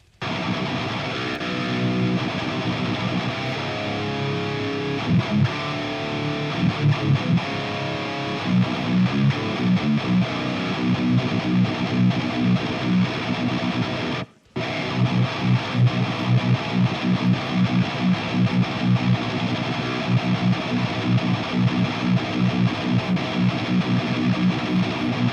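Heavy distorted electric guitar played through a Softube Engl Savage Mark II amp simulation, loud chugging riffs with a brief cut of silence partway through, continuing without talk.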